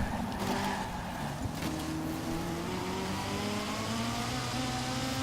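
Several Pagani Zonda race cars in Forza Horizon 4 on a racetrack with an infield, engines droning and revving steadily together at moderate volume, with no talk.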